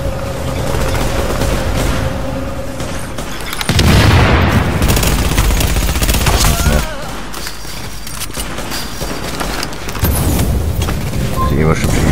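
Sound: gunfire in The Division video game

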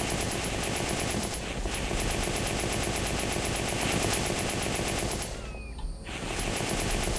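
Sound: machine gun fire in the video game The Infected

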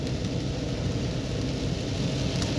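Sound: rain falling

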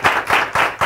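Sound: audience clapping

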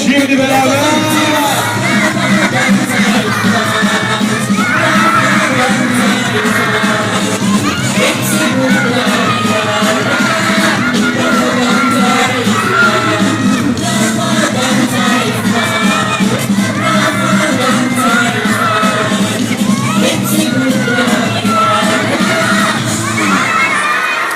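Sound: crowd cheering and applauding

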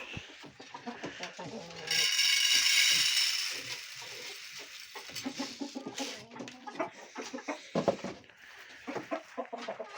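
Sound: chickens clucking

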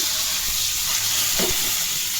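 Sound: whole spices and bay leaves frying in oil

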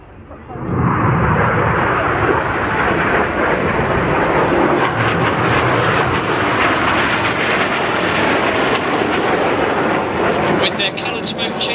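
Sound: Red Arrows jets flying in air display

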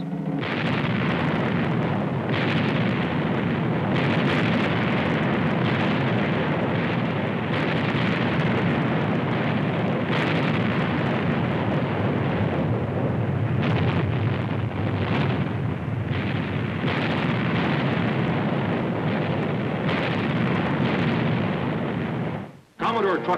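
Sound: cannon broadsides fired between naval frigates

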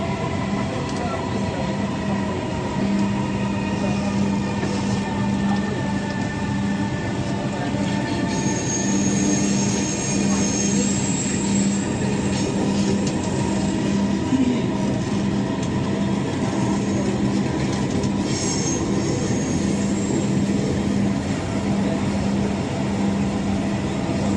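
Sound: Dhaka Metro Rail train running between stations

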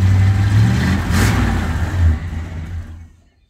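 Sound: 1970 Plymouth Fury engine revving

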